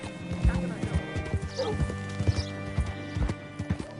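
Horse hooves clip-clopping on the ground in Red Dead Redemption 2, a steady near plodding rhythm with a brief whinny in the middle, under light in-game voices.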